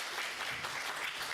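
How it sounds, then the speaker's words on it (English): Steady audience applause after a question session at an entrepreneurship pitch competition finals, dense and even with no talk over it, lasting about a second and a half. "Round of applause,"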